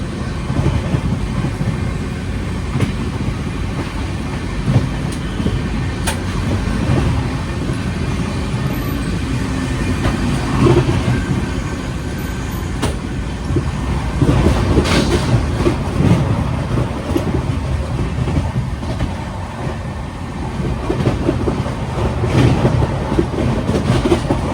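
The Garib Rath Express runs at speed on the rails between Ranchi and New Delhi, nearing Ghaziabad: a steady, dense rumble and rattle of wheels on track, with clattering surges and no pauses.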